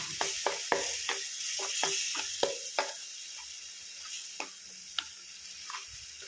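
A spoon scrapes and knocks through thick coconut fish curry masala in a pan over a faint sizzle, with irregular sharp clicks.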